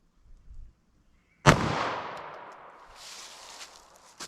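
A 9mm jacketed hollow point is fired into four layers of denim, three inches of clear ballistic gel and quarter-inch MDF: a single sharp, loud shot with a ringing, echoing tail, preceded by faint handling noises.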